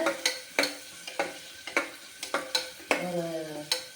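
Chopped large onions sizzle and fry in a pan for a rice dish, with repeated sharp stirring scrapes every half second or so over a steady frying hiss, close and moderately loud.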